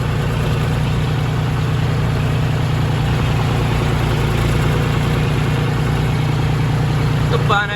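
A tractor engine idles in a steady low, throbbing chug in a flooded, puddled paddy field, close and constant throughout, with a brief clatter at the very end.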